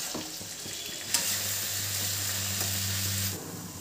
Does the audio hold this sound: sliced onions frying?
yes